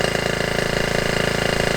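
Honda T50 engine idling after sitting for ten years, a steady, fast-pulsing putter with a rough, even rhythm, close and loud throughout.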